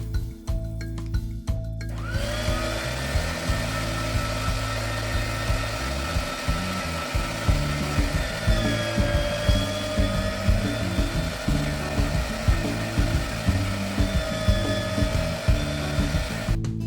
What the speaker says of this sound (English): So that's all the mince gone through the grinder the second time, again with a size 12 blade.